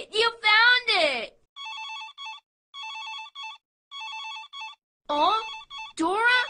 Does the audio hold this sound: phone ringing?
yes